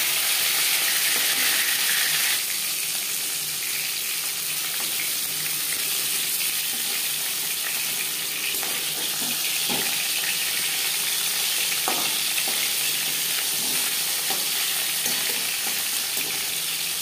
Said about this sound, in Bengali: একবারেই পুরো মাছ আমি ভেজে নিলাম।